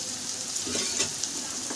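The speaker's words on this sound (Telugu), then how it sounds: "పన్నీర్ వేగుతున్నప్పుడే" Paneer cubes sizzle in a hot pan for a Telugu-style paneer and green peas curry, giving a steady close-up crackle with small bursts and no talking.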